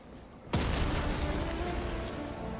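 Sentry turret opening fire in the co-op shooter Helldivers 2, a sudden loud burst that turns into sustained, dense gunfire and rumbling impacts continuing to the end.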